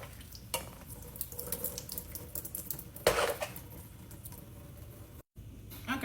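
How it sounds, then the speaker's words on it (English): Cooked pasta noodles poured into a kitchen sink to drain, with water gushing and splashing steadily, a sharper metallic clatter midway, and a brief dropout before the flow resumes. "So now we're just going to drain the noodles."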